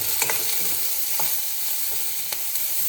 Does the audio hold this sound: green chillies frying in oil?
yes